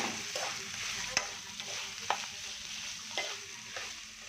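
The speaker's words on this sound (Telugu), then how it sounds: "అల్లం వెల్లుల్లి వాసన, పచ్చి వాసన పోయేంత వరకు మనం ఫ్రై చేసుకోవాలి." Ginger garlic paste fries in a pan for a spicy prawn curry, giving a continuous close sizzle broken by spatula scrapes and taps roughly every second.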